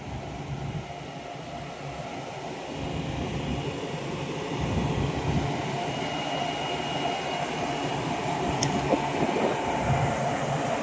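A train carrying a crane rumbles steadily along the rails, a loud continuous roar with a brief high squeal near the end.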